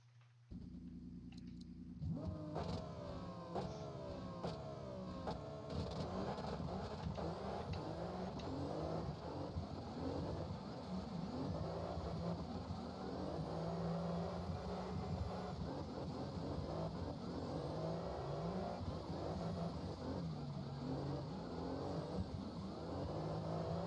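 A 2JZ-engined race car on a test-and-tune run accelerates hard and loud up close, the engine climbing through the revs in a long, continuous pull that keeps straining upward without reaching the rev limit.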